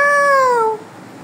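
A single close, loud cat meow, drawn out for most of a second and sliding downward in pitch, heard alone against a quiet background.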